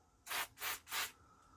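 Three short, even hissing bursts of spray from an aerosol can onto the tape mechanism of a Thorn 8940 / JVC HR7350 VCR being restored, close and quiet with brief gaps between them.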